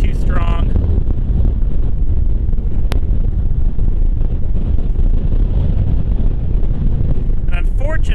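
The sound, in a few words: strong wind blowing over the microphone at White Sands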